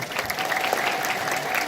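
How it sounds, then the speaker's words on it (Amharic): A large crowd at an Ethiopian Orthodox Timket celebration in the Washington DC area claps continuously, a dense even wash of applause heard at moderate distance. "ለራሳችሁ አንድ ጊዜ አጨብጭቡ"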